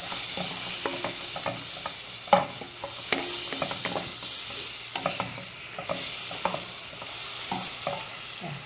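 Food sizzles loudly in a pan while avocado broth cooks, a constant dense hiss near the microphone with scattered clicks and scrapes of stirring, and no voices.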